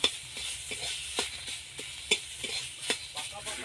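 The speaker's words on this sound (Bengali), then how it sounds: "এবার ওই তেলের মধ্যে পেস্ট করে রাখা সয়াবিনটা দিয়ে দেব, দিয়ে একটু নেড়ে নেব।" Soybean paste sizzles in hot oil in a pan while a spoon stirs it, sharp regular scrapes and taps cutting through a continuous bright frying hiss, close up and without talk.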